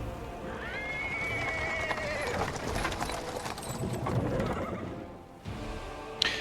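Horse-drawn cart rolling over paved stones in Pathfinder: Wrath of the Righteous, with a horse whinnying loudly, hooves clip-clopping and wooden wheels and mechanisms rattling steadily nearby.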